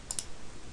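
Two quick, light computer mouse clicks close together, crisp and close up in an otherwise quiet room.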